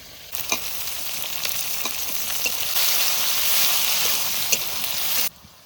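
Onions frying in hot oil with dry chillies, bay leaf, whole cumin, cinnamon, cardamom and cloves for a village-style chicken curry, a steady close sizzle with a few sharp crackles and stirring clicks, no talk.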